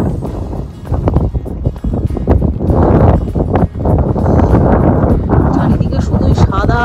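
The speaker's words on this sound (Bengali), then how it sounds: "খুব হাওয়া দিচ্ছে তীব্র," Strong gusting wind buffets the microphone aboard a snow-covered ferry in Norway during heavy snowfall, a loud continuous rumbling roar with surges, and a voice talks over it.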